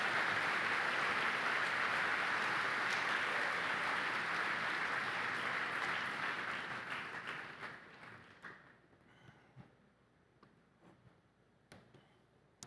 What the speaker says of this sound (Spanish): Dele aplauso al Señor Jesús